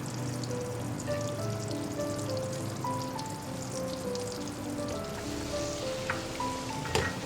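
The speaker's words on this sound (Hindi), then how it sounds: "जो क्रश किया हुआ है वो उसको भूनूंगी" Crushed garlic sautéing in a pan while making a chicken cheese bread roll, a continuous close sizzle and crackle with tonal background sounds running underneath, no talking.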